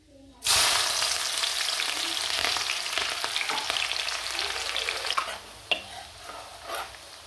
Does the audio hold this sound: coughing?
no